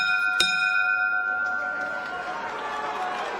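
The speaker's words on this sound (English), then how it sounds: "The bell's about to go here." A single sharp bell strike ends a round at a professional boxing fight night, its metallic tone ringing on and slowly fading over a steady crowd murmur in the arena.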